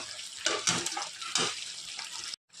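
Water poured into a brinjal and dried fish curry in the pan, a loud close splashing gush in a few surges that cuts off abruptly near the end.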